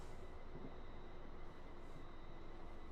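A train slows toward a station in a simulator game on the Portsmouth Direct Line, with a steady, low rumble of wheels and running gear that continues throughout at moderate volume and no voices.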